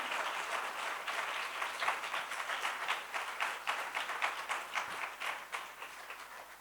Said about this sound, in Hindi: खुश होकर जोरदार तालियां बजानी है।